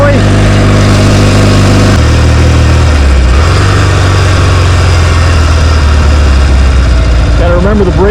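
A 1974 Norton Commando motorcycle engine runs loud and close, a steady deep idle that shifts pitch and revs slightly, continuous throughout.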